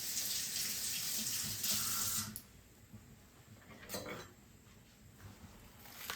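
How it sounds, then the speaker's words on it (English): Tap running over hands in a kitchen sink, a steady close splashing water stream that drops to a softer flow partway through, with small splashes as hands move under it. "Okay, let me wash my hands."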